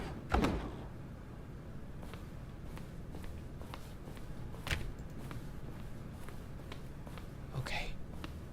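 A door closes in The Stanley Parable, one sharp thud near the start, then quieter footsteps and knocks, with another firm impact midway, all fairly close in a quiet room.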